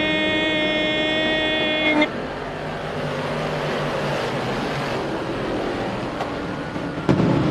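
Race cars roaring off the line at the start of the Tidal Wave 30, a 25-car shore track race, as a loud horn-like tone cuts off into a dense, sustained engine rumble.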